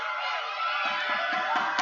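Football crowd cheering on a Saturday afternoon at a Harrisburg Stampede game, a steady wash of distant voices from the stands with a few soft thumps.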